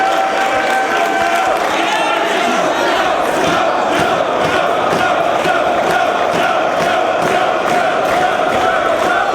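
A Boston crowd at a professional wrestling show cheers loudly and continuously for Samoa Joe, a dense roar with rhythmic chanting and clapping that fills the whole stretch.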